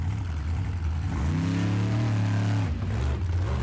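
Monster trucks rev and roar at the start of a race at a full-show tour event in Powell, Wyoming, a loud sustained engine drone with a rising pitch sweep, then a drop.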